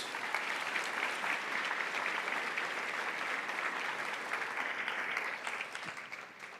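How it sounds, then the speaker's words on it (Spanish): Church congregation applauding God during a Spanish-language sermon, a dense, steady wash of clapping from many hands that holds strong for several seconds, then thins and fades toward the end. "dale un aplauso de necesidad a Dios"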